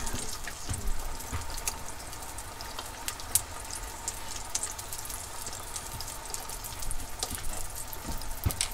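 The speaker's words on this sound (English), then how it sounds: "go and wash my hands" Tap water runs steadily into a sink while hands are washed beneath it, a continuous close splashing hiss with faint drips and small clatters, no talking.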